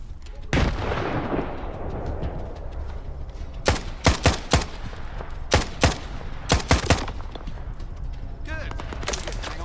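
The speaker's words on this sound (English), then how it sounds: "Throwing a grenade at me." Gunfire from the video game Stalker 2: a grenade blast early on, then sharp close gunshots in quick clusters of two and three over a rumbling background, with a voice talking underneath.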